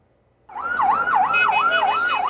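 A loud siren wails in Kabul in a fast repeating up-and-down sweep, starting abruptly after a moment of quiet and continuing steadily.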